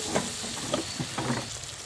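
Masala for egg kofta curry, seasoned with salt, turmeric and chilli powder, is sautéed in a pan, giving a continuous soft sizzle with a few louder scraping stirs; no talking.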